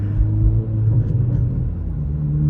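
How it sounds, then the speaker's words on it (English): A 2023 Acura Integra with an aftermarket Remark exhaust, heard from inside the cabin, gives a deep low rumble with soft uneven burbles and a brief dip as it shifts between gears, subtle and steady. "as you guys can hear, those exhaust burbles between the gears, very, very subtle"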